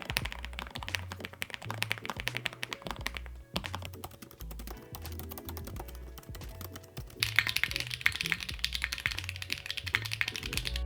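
Steady, rapid typing on a Lofree Edge thin mechanical keyboard, with quiet, deep, muted keystrokes clattering close up in a continuous run with a few brief pauses.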